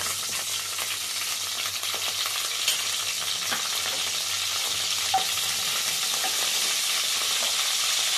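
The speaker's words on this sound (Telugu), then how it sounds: "ఆయిల్ వేడైన తర్వాత జీలకర్ర వేసుకోవాలి. ఒక స్పూన్ జీలకర్ర వేయాలి." Cumin seeds sizzling in hot oil in a pan, a steady, dense frying hiss that runs continuously at moderate loudness with a few faint pops and stirring scrapes, no voices.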